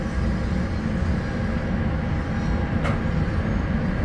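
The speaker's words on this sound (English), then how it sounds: "It took 20 minutes for this freight to get out of the way." A freight train rumbles past steadily at close range, a continuous heavy low roar of rolling wagons with a faint brief squeal near the end.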